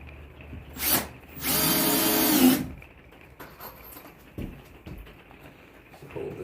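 A power drill drives screws into aluminum during an RV floor install, a short whir near one second then a longer loud run of about a second, followed by quieter handling noises.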